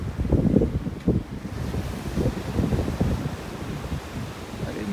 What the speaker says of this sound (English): The tide is on its way in here.